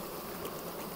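Honeybees buzzing at a beehive during an inspection, a dense steady hum of many insects close by that stays even throughout.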